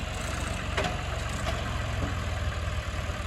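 A John Deere tractor's diesel engine idles close by, a steady low rumbling drone that holds even throughout, with no talking.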